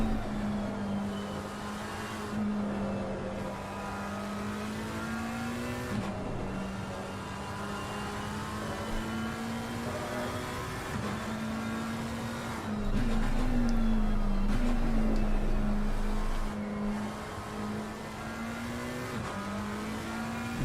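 Race cars lapping the Spa circuit in a racing video game, including a Porsche, a continuous engine drone with gear shifts roughly every few seconds and a louder stretch partway through, no speech over it.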